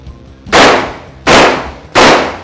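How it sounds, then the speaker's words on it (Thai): A Derya MK12 shotgun fires three loud, close shots at a shooting test, each a sharp crack with a short decaying tail, spaced roughly three quarters of a second apart. "เริ่มยิง"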